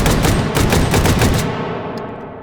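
AA-12 automatic shotgun in H3VR firing a rapid burst of loud, close booming shots in a steady rhythm, then the reverberant echo tailing off after the last round.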